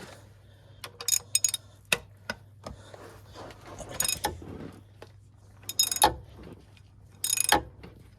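A ratchet with a small extension bar works on a Ford Fiesta EcoBoost crank pulley bolt, giving scattered sharp metallic clicks and clunks in bursts over a steady low hum, close and fairly loud.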